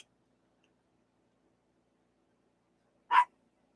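A small female pet dog gives a single short bark from behind, in an otherwise silent indoor room.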